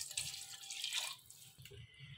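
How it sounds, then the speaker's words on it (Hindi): A glass of water is poured into a cooking pot of aubergine and meat curry, giving a short splashing gush that fades into a few quieter drips and trickles. "पानी काफ़ी है, मैं एक गिलास और डालूँगी।"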